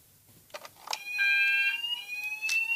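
A household fire alarm sounds in a bedroom with a piercing, steady electronic tone that starts after a few soft clicks and keeps going loud and close.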